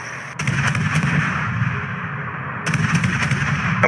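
Naval guns fire in a warship game, a sharp crack opening repeated booming salvos that rumble on, then a second burst of close, heavy gunfire.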